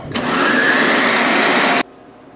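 A blender whirs loudly and steadily for under two seconds while pureeing a vegan frijolada sauce, then cuts off abruptly into silence.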